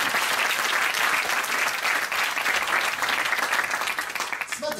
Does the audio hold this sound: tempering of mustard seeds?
no